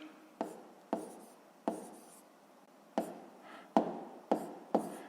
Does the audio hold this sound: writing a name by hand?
yes